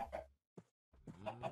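Blocky farm chickens in Minecraft give a few short clucks and squawks, a brief burst, a quick isolated cluck, then a longer run of clucking, fairly close and clear.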